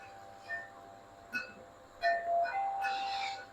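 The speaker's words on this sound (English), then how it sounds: "sorry for the wind chimes" Glass wind chimes tinkling outdoors as wind picks up, a few sparse clinking strikes followed by a cluster of ringing, sustained tones, with no speech.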